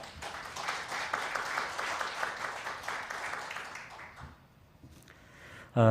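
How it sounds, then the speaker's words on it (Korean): An audience applauds to welcome a university president as lecturer at a press club lecture event, a steady round of clapping that fades out after about four seconds, followed by near silence and a brief sharp sound at the end. "아주대학교 박형주 총장님을 큰 박수로 환영해 주시기 바랍니다"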